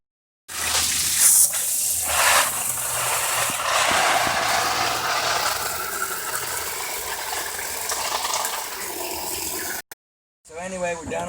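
A washing machine running its final rinse on tie-dyed fabric, a steady churning, sloshing wash with mechanical rattling and water movement, close and continuous, cutting off near the end before a brief voice.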